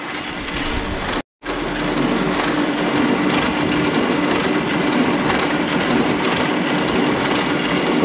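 An old Canon iR6000 photocopier, once buried in soil and now repaired, running a finishing print test: a loud, steady mechanical rattle and whir that continues throughout, broken by one brief silent gap near the start.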